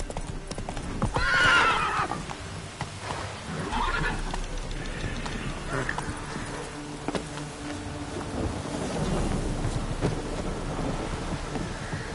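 The horse Roach galloping in The Witcher, clip-clop hoofbeats running throughout with a loud whinny near the start and rain and rumbling thunder in the background.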